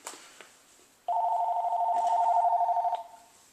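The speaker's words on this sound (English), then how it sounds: "of course, and the phone rings" A telephone rings loudly and steadily for about two seconds in an indoor room, a sustained electronic ring tone that cuts off abruptly, preceded by a few faint knocks.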